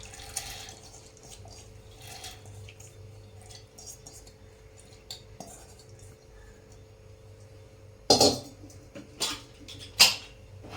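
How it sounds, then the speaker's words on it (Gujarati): Wheat grains tipped into a pot of hot water, heard as two or three short, splashy bursts near the end after a long stretch of quiet kitchen background. "એની અંદર આપણે આ ઘઉં નાખી દઈશું"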